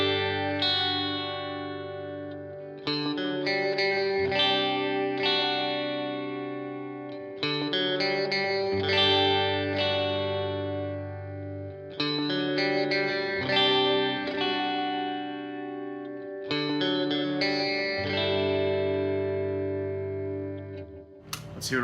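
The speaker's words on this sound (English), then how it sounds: "I'll plug in real quick and play a little bit, just so you can kind of hear." An electric guitar strung with Elixir Optiweb strings and played on both pickups, heard as clear, ringing chords and melodic lines through effects in four long, sustained phrases, clean and close with no voice.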